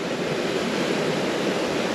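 Sea waves rushing behind a sailing boat running downwind off Antigua, a steady broad roar of water and wind, loud and continuous, with no voices.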